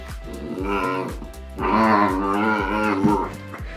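Close by, an excited Romanian rescue dog makes odd, drawn-out whining and groaning noises that rise and fall in pitch, over a steady rhythmic thumping.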